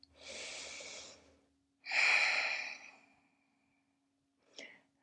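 Slow, deep breaths during a yoga practice, a long airy exhale followed by a fuller inhale-exhale, then a brief softer breath, close and alone against quiet.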